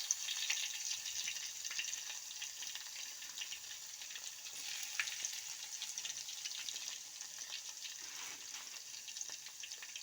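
Garlic frying in hot oil for a simple festival dish: a continuous soft crackling sizzle, fairly quiet and close, with fine irregular pops running steadily throughout.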